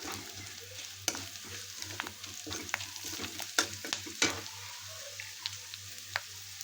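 Potato chutney mixture sautéed in a pan, a steady low sizzle broken by sharp scraping stirs and clinks of a spoon against the pan, close and fairly quiet, no talking.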